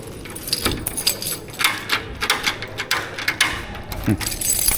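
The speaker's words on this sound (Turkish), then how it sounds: "Lütfen şöyle bir dükkanımızı kilitleyelim. Ama kilitlemiyor." Keys jangle and scrape in the lock of a shop door as someone struggles to lock it, producing repeated close metallic rattles and clicks over several seconds.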